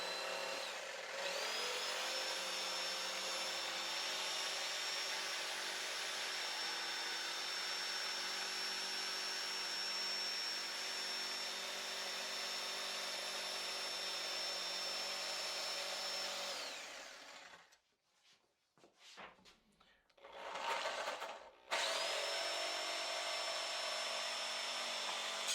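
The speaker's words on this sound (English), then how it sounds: "You take your jigsaw and we will go carefully along." A jigsaw cuts a curve through a wooden board clamped to a table or workbench for a stepstool build. Its loud, steady motor buzz runs unbroken for about sixteen seconds, drops to near silence, then briefly starts up again.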